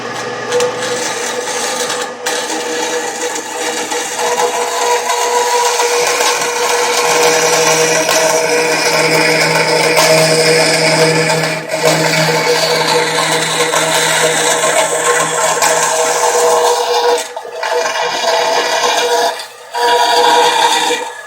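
A Harbor Freight band saw cuts through a piece of aluminum with a steady, loud grinding whine that continues for most of the time, briefly dropping out a few times as the cut pauses.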